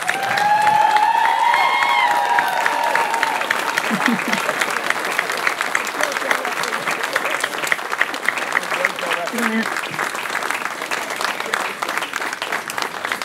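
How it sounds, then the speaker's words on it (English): Graduation ceremony crowd applauding the Discovery Class of 2018 as they stand, loud continuous clapping with cheers and voices mixed in throughout. "let's give them one final round of applause"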